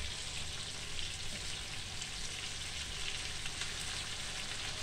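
Raw chicken fillet fries in a rice pot, giving a steady, dense sizzle that crackles continuously from start to end with no speech.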